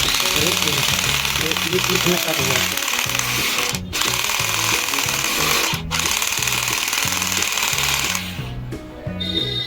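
Homemade cordless screwdriver converted from an old wired one, whirring and loosening a bolt with a loud, steady, rapidly pulsing motor drone and brief dips, while a person talks over it.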